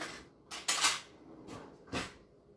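A knife scrapes leftover chocolate fudge off a surface in a few short, bright strokes, close by and with no talking, separated by brief pauses.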